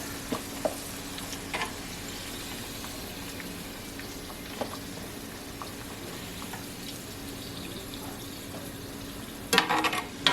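Sweet potato fries deep-fry in oil, giving a steady, moderate sizzle that runs throughout. Occasional light knocks and a brief clatter near the end sit over it, with no speech.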